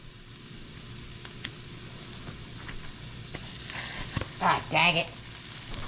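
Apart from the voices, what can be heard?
onion and garlic frying in a pan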